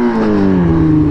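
A twenty-year-old motorcycle gives a single short, loud rev during clutch control, its engine note sliding slightly downward, heard up close.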